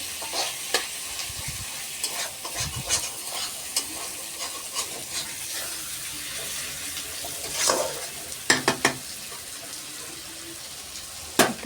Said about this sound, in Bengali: মশলাগুলো ভালো করে ভেজে নেব।